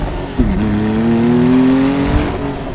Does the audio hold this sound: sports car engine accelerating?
yes